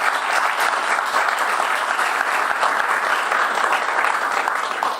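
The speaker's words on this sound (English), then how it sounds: "round of applause" An audience applauds after a provocative lecture at an expo, a dense, even wash of many clapping hands that holds steady and loud for several seconds without talk.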